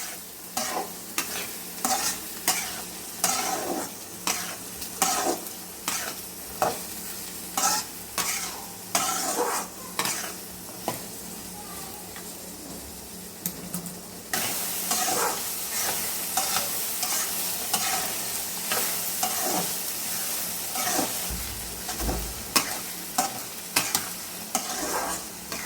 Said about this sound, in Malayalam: കാന്താരി എണ്ണയിലിട്ട് കൊടുക്കുമ്പോൾ പൊട്ടിത്തെറിക്കും